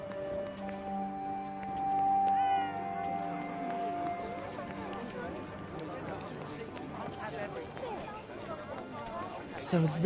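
A cat meows a few times in the video game Forspoken, small plaintive calls over soft rain-like ambience and a sustained musical drone, with a voice speaking over it.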